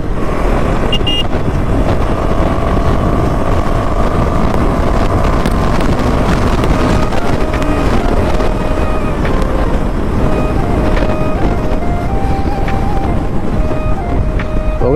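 A motorcycle fitted with an Akrapovic exhaust rides on a rainy road, its engine droning steadily with rising and falling pitch, heavily buffeted by wind roar at close range throughout.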